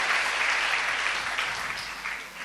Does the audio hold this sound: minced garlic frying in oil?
no